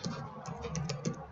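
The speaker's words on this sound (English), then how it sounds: "you can click on Start and type in DC" Rapid, light typing on a computer keyboard, a steady run of soft clicking keystrokes at close range with no voices.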